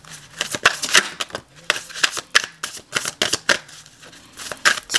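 New tarot cards are shuffled in short bursts of crisp flicking and slapping, close by, with a faint low hum underneath.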